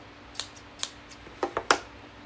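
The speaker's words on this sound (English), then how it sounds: "And then I got these scissors." Kitchen scissors handled alone at close range, a few soft separate clicks and snips that grow slightly louder toward the end, with a quiet background.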